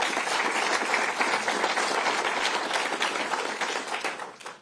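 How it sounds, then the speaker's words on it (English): Round of applause from an audience at Governor Kathy Hochul's event unveiling an AI supercomputer in Albany, steady dense clapping for several seconds that thins out at the close. "Let's give a round of applause."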